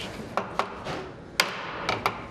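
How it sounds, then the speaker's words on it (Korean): Hammer tapping the joints of a wooden door frame during a hanok-style apartment remodel, several sharp separate knocks at an uneven pace over a rough, noisy workshop background. "연결 부분을 끼우고 아귀가 맞도록 망치로 두드리고 다시 길이를 재는 일이 반복된다."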